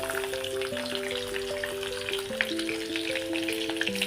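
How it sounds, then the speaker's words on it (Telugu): Finely chopped small onion sizzling in hot oil with bay leaf, cloves and cardamom, a steady crackling fry with light stirring taps, heard under a gentle melodic music track. "చిన్న ఉల్లిగడ్డ ఇలా చిన్న ముక్కలుగా కట్ చేసి వేసుకోండి."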